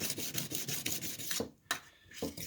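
Steel card scraper edge being polished to a mirror finish, with quiet rhythmic rubbing strokes that repeat steadily, then pause briefly before a few more strokes, close and faint.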